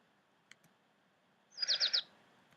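A short burst of bright bird chirps, three or four quick tweets in a row, clear and close after a near-silent start with a couple of faint ticks.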